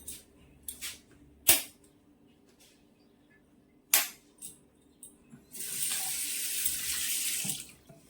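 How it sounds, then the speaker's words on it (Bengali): Water runs from a geyser tap at home into a sink, a steady rushing stream near the end, after a few sharp clicks and knocks from the fittings. "গিজারটা একটু চালিয়ে দিই।"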